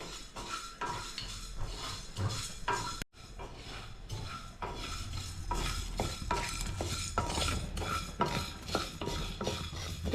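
Almonds roasting in a pan with a little fennel and a small piece of cinnamon, a spoon stirring and scraping in quick, continuous strokes over a faint sizzle, close and fairly loud, with no talking.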